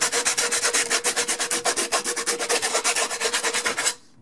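Steady back-and-forth rasp of 100 grit sandpaper deburring and chamfering the cut edge of a pipe during a sewer repair, about twenty quick rhythmic strokes up close before stopping.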